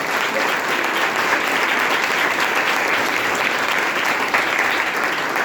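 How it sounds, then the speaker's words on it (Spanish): Church congregation clapping during a Sunday morning service, a loud, dense, continuous wash of applause holding steady throughout with no speech over it. "Dale el aplauso al Rey, iglesia,"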